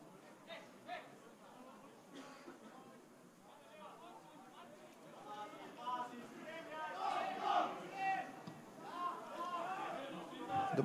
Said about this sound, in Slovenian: domáča navijaška skupina skrbi za navijaško vzdušje na obračunu